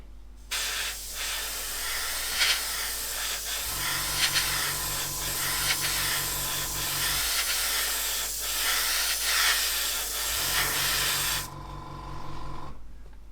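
Grey lacquer paint from an airbrush hisses steadily onto a model aircraft wing. The spray runs almost continuously, with a low compressor hum pulsing underneath in two stretches, and no one speaks.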